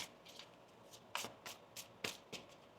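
Tarot cards are riffled and shuffled in quick, soft bursts, close up and quiet, with no voices.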